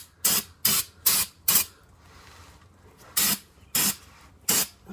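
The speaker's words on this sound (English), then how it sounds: "I usually like to hit it with some brake clean." Brake cleaner sprays onto the front brakes of a 2009-2015 Cadillac CTS-V in short, sharp bursts, four quick hisses, a pause with faint background, then three more, loud and close.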